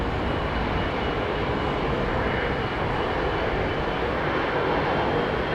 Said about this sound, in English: we've got Captain Ian Hutchinson operating this ATR 72